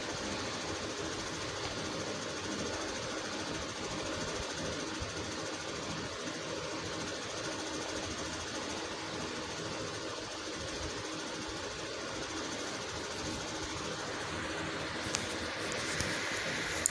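A sewing machine stitches the seam of a collar dress, producing a continuous, even motor hum with a fast, steady needle rhythm at moderate loudness, with no speech over it.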